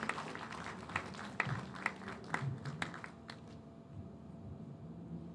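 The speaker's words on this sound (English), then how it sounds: "Please give him a warm round of applause." Scattered applause at a legal bar association conference in Lagos, sparse individual claps from a smallish audience, fairly faint and distant, thinning out toward the end.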